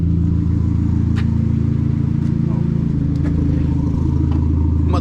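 Idling turbocharged engine of a MK4 Golf GTI 20th Anniversary Edition fitted with a new turbo inlet pipe, a steady low rumble with faint mechanical clatter, heard close throughout.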